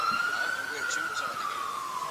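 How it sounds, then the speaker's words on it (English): A wailing emergency siren, tagged as an ambulance, passes by near Chermside: one sustained tone sweeping slowly up then down, loud and steady, with faint background voices and outdoor noise at a bowls event. "it sounds like we're at Chermside. Ambulances."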